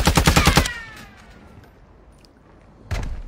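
Gunfire in the Fortnite video game: a rapid burst of about seven sharp shots, then quiet with a soft trailing tail, and a fresh loud burst begins right at the end.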